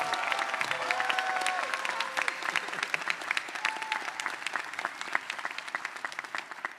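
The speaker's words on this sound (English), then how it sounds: "that deserves a round of applause for Jasmine." Graduates and guests at a college commencement ceremony applaud, a dense spread of individual claps building into steady, moderately loud applause that continues for several seconds.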